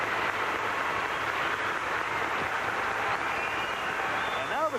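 A large arena crowd at the 1990 World Figure Skating Championships applauds steadily after a men's skate, a dense, even wash of clapping that holds for several seconds, with a voice briefly rising over it near the end.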